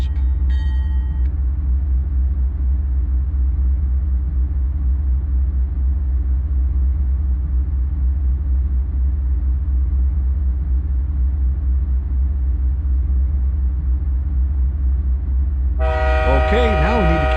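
A deep, steady diesel train rumble in Microsoft Train Simulator drones throughout, with a brief high tone at the start and a horn-like blast near the end.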